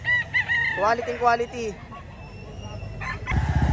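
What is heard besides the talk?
fighting rooster crowing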